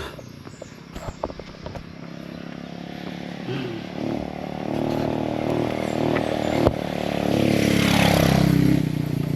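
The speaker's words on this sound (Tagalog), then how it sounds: "may motor." Motorcycle riding along a blocked rural road, its engine drone building from faint to louder and peaking near the end as it passes close, with scattered clicks early on.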